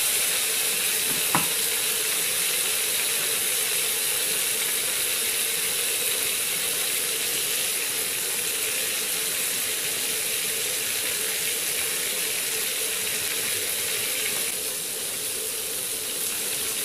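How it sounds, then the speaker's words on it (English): Steady crackling sizzle of food frying in a hot pan, continuous and close, with a faint clink near the start and no talking. "Ayan na siya, nag-sizzle na siya."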